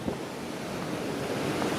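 Broad steady rush of the River Inn flowing beneath a bridge near a power station on the German-Austrian border at Braunau am Inn, a continuous wash with some wind noise and no voices.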